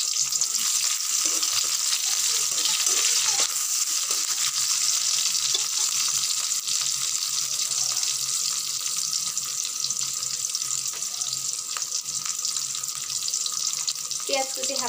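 Half a cup of chopped onions frying in half a cup of oil for hariya kabab, a loud, steady, crackling sizzle lasting throughout, with faint stirring and a brief clatter near the end.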